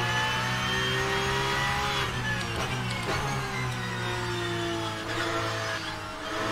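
Porsche 992 GT3 Cup race car engine accelerating in rFactor 2, a steady loud mid-pitched engine note holding and climbing through the revs with a brief shift dip midway, close and continuous with no talk.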